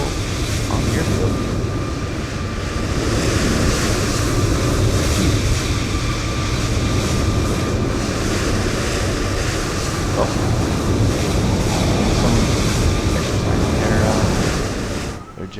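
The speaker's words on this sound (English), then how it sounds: "Someone's exercising their jet." A jet engine on another aircraft runs loudly and continuously on an airfield in a flight simulator, a steady roaring rush that holds for the whole stretch before easing slightly at the end, with a brief spoken exclamation.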